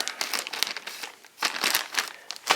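Plastic package being opened with scissors for an SKS carbine bandolier, a close run of crinkling and rustling with a few sharper crunchy bursts, no talking.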